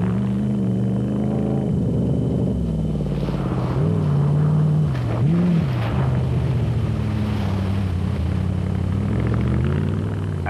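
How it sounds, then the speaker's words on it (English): A Chevrolet-engined Zarco Magnum off-road race car roars steadily at moderate distance, its engine note rising and dipping through several surges over a continuous rumble. "Let's face it, that Chevy is a joy to listen to."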